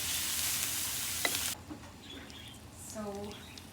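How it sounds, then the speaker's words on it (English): Food sizzling as it fries and sautés in olive oil, a bright hiss that drops away midway, leaving faint crackles and a few short squeaky stirring sounds. "This is frying a little bit, sauteing in some olive oil."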